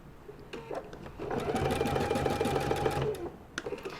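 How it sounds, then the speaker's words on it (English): A sewing machine stitches ribbons, a raffia bow and bar tacks onto a patriotic fabric pennant, running in a steady close whir for about two seconds between brief stops and starts, with faint handling clicks around it. "I'm going to put the bow, and I'm going to sew it all in one step"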